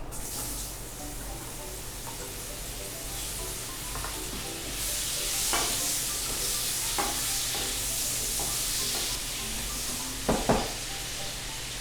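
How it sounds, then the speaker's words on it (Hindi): Mango pieces frying in hot oil with asafoetida and turmeric for a sweet Punjabi mango pickle, a steady close sizzle with occasional stirring scrapes and a few sharp spatters near the end. "आम को थोड़ा भून लेते हैं"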